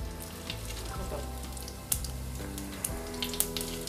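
Cumin seeds fry in hot oil as a tempering for guava pickle, a close, steady sizzle with small pops and crackles scattered throughout.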